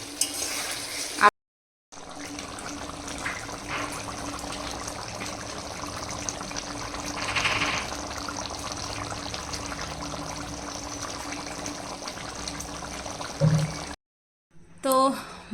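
Meat cooking in a pot over a high flame with water being poured in, a low steady sizzle and bubbling that runs for most of the stretch, cut by brief silent gaps near the start and end.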